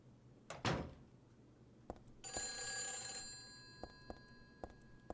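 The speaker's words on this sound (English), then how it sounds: "Let's answer the phone. That mysteriously started ringing the moment we walked in here." A telephone rings once in a tense scene in the horror video game Silent Hill 3, a bright, shrill burst lasting about a second amid scattered soft knocks and thuds, with no talking.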